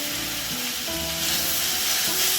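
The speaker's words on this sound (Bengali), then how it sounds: "তো ভালো করে আমি ভেজে কষিয়ে নিচ্ছি" Potatoes and onions sizzling steadily in hot oil in a pan for Bengali kuash tarkari, a continuous dense frying hiss, close and fairly loud.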